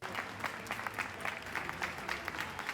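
A theater audience claps warmly, steady applause of many hands with rhythmic peaks, moderately distant and fairly soft.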